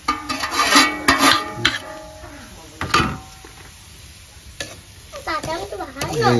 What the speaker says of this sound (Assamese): আমি চুজিটো ইয়াত ভালকৈ মিক্স কৰি দিওঁ